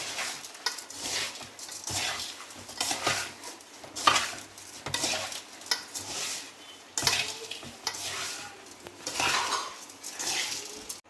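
Metal utensils scrape and clatter against a pot in repeated bursts as peanut and flattened rice chevda is mixed with spice, a steady stirring rhythm with faint sizzling underneath, close and fairly loud, no voices.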